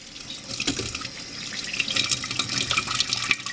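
Cold water runs steadily from a tap into a sink, a continuous splashing stream with slight variation, close and alone without speech.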